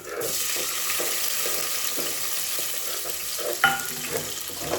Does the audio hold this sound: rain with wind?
no